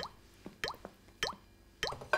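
Water from a leaking roof drips into a saucepan, four separate hollow plinking drops spaced about half a second apart, close and fairly quiet with faint background hum.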